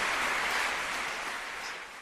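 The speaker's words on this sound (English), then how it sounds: "And oh yeah, the applause and everything." Studio audience applause on a college football talk show, a steady broadband clatter of clapping held for about two seconds at moderate level, tapering slightly toward the end, with no voices over it.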